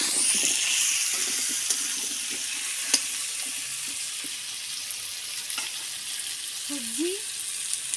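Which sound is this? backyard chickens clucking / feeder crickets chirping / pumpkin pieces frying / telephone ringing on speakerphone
pumpkin pieces frying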